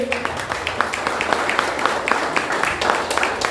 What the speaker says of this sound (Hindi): अरे ताली बजाओ प्रभु के लिए।